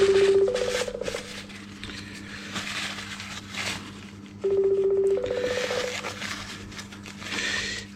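A phone keypad gives short dialing tones in two bursts, then rings faintly while the line goes unanswered, over a low steady hum in a workshop where a KTM 65 SX engine sits open.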